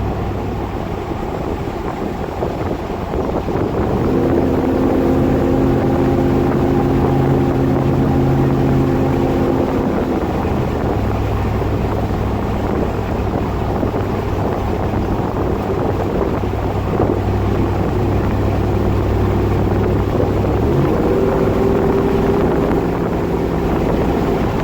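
A first-generation Toyota Tundra with its y-pipe removed drives at around 30 mph with the windows down. A steady, deep exhaust drone rises and shifts in pitch as the truck gets on the throttle, with wind rushing over it throughout.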